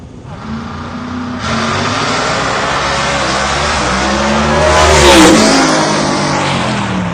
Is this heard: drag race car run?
yes